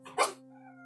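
A dog barks once in the room, a single short close bark over a faint steady hum.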